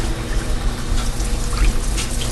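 A couple of cups of water poured into a large roasting pan for a lemon garlic roast chicken, giving a steady, close splashing rush that runs without a break for the whole stretch.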